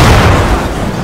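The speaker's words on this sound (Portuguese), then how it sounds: "o cara tava com bomba, mano. Era um homem bomba." A bomb blows up at a car in the video game GTA V, one loud booming blast with a crackling roar that fades over about a second.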